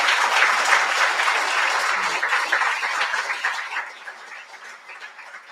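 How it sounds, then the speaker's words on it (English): A crowd at a memorial service claps steadily in a dense burst of applause that gradually thins and fades toward the end. "Let's give Sarah a round of applause"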